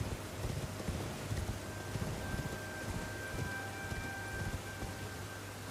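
Rain falls at night in the Elden Ring video game, a steady dense hiss of raindrops with soft low rumbles and faint thuds underneath, moderately quiet and continuous, with no voices.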